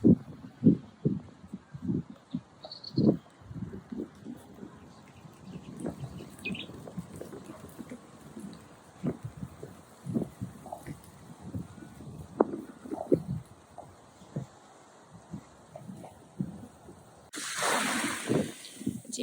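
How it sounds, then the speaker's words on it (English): Ocean waves washing onto a sandy beach, quiet rhythmic swishes and surges of surf under soft wind, ending with a louder wash near the close. "How the sand clouds up as the waves come"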